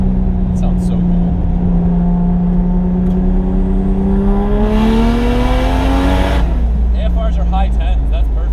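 Turbocharged Toyota JZX100 Chaser engine revving hard under boost, a rising harmonic drone that climbs steadily then drops off sharply as the throttle lifts, loud and close, with a voice speaking over it.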